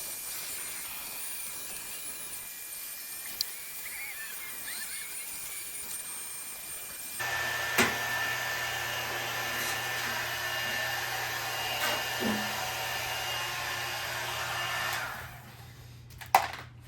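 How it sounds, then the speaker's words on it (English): A heat gun blows a steady, close whooshing roar as it heats a car emblem, kicking in partway through and running alone to the end with a few small clicks and knocks. "I'm going to plug in my heat gun and"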